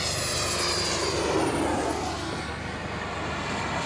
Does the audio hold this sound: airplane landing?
yes